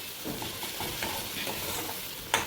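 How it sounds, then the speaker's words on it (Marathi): Fenugreek leaves fry in hot oil with a steady, close sizzle. Soft stirring scrapes recur through it, and one sharper clatter comes near the end. "मेथीची भाजी जशी जशी तेलात फ्राय होत आहे"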